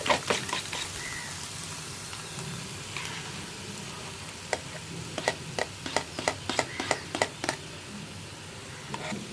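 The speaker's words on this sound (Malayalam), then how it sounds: "ഫ്ലെയിം കുറച്ച് വെച്ചിട്ട് മുട്ട ഒന്ന് ബീറ്റ് ചെയ്ത് ഒഴിച്ചു കൊടുക്കുക." Beaten egg seasoned with salt and pepper hits hot oil in a pan over a lowered flame, giving a soft steady sizzle with a run of sharp crackles and pops clustered toward the end, no talking.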